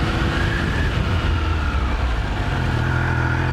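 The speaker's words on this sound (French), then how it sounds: "Je sais pas si vous entendez le pot d'échappement" A Triumph Speed Triple 1200 RS motorcycle is being ridden, its exhaust giving a steady low engine drone with a faint higher whine, continuous and close, with no talking.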